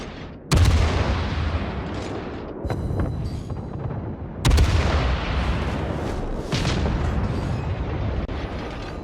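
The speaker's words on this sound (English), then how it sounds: "I am going to still fire at him anyway, make him easy to kill." USS Albany warship guns in World of Warships fire loud booming salvos, with two heavy blasts and several lesser reports, each rolling into a long rumbling tail of battle noise.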